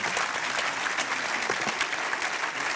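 An audience applauds at a French entrepreneurship awards ceremony: sustained, even clapping from many hands, moderately loud and continuous without a break.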